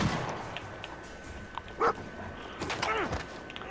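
A dog barks in the Fallout 4 video game, giving a few short, moderately loud barks over a steady layer of game ambience.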